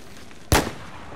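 A single sniper rifle shot from Battlefield 4 lands a long-range headshot: one loud, sharp crack with a short, fading tail, heard on its own against a quiet background.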